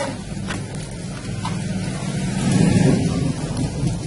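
Rain falls outdoors during sunshine, making a steady, soft hiss over a low rumble that swells to its loudest around the middle and then eases slightly.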